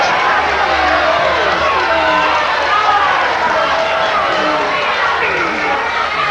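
A large wrestling crowd cheers and roars steadily throughout a 1976 bout between Mike Marino and Bruno Elrington, a dense continuous wash of voices with no distinct commentary standing out.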